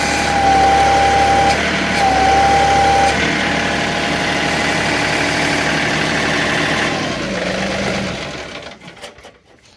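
A 220R loader's engine runs at a steady 1500 RPM under a hydraulic pull, a loud continuous drone with a whining tone that shifts partway, then the engine winds down and fades near the end.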